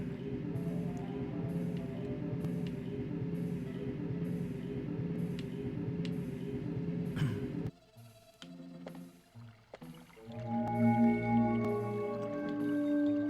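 Water dripping in a cave in the video game Shadowgate 64, regular single drops plinking over a low ambient drone, then echoing drips and tonal splashes as the scene shifts.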